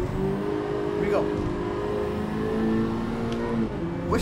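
A Honda Civic Type R FL5 engine hums and revs steadily on Tokyo Expressway in Gran Turismo 7, with a tire screech at moments and a faint voice underneath.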